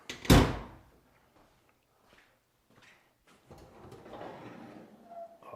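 The rear of a 1930 all-steel traditional Ford hot rod being opened, one loud sharp metallic thunk of the body panel at the start, then quiet shuffling and faint handling noise close by.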